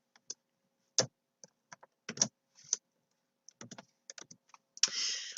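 Bursts of computer-keyboard typing with short gaps between them and a denser flurry of keystrokes at the end, close and clear with no talking.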